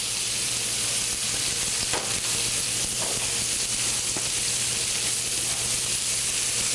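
Onions lightly sautéing in a hot pan give a steady, loud, close sizzle and frying hiss throughout, with a few faint scrapes of stirring and no talking.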